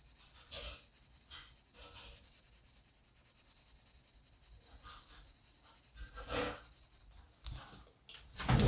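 Colored pencil scratching on paper in little tiny circles with a sharp point, soft close rasping strokes in short bursts with brief pauses, quiet and alone.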